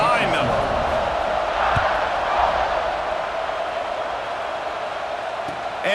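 A stadium crowd roars steadily in EA Sports College Football 26 at a kickoff after an extra point, a dense, continuous wash of cheering that holds loud for the whole stretch.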